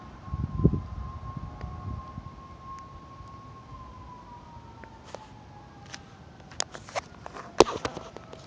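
Hook and ladder fire truck siren responding to a call, a distant steady wail gradually sliding lower in pitch over wind noise, with scattered footsteps and sharp clicks nearby.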